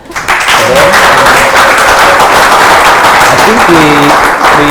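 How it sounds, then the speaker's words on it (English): An audience claps together in sustained, loud applause that swells quickly and holds steady, with a few voices calling out over it. "I think we should clap for them."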